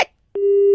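A disconnected-call phone tone starts after a brief silence and holds as one steady electronic beep to the end, loud and clear.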